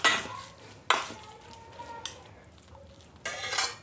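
Two spoons scrape and clink against a bowl while mixing molo soup dumpling filling, in a few separate bursts of stirring with quiet pauses between them.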